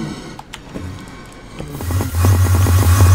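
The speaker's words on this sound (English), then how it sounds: "The noise of him teleporting when he hit water." In the Minecraft FTB Infinity Evolved modpack, a player teleports on hitting water: a quiet stretch gives way to a loud, throbbing electronic warble that pulses rapidly and builds to the end.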